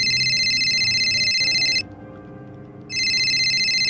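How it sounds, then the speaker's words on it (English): A telephone rings loudly and close, a bright electronic trill that stops for about a second before starting again, over a low background hum with no one speaking. "your phone is ringing"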